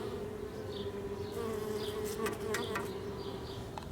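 Honey bees buzzing around a hive, a steady close drone with individual bees zipping past the listener, alone with no talking.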